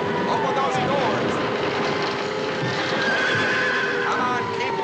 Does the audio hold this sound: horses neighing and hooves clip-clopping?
yes